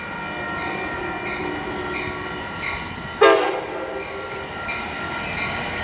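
An Amtrak commuter train rumbles past steadily along the Carquinez Strait, then a short, loud horn blast sounds close by before the rolling rail noise continues.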